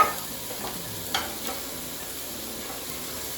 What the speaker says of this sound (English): the thing that takes the longest, I think, is grilling these vegetables